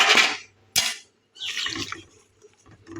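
Water poured into a pot of radish and salt before boiling: short, close splashing pours come in separate bursts with quiet gaps, and there is no talk.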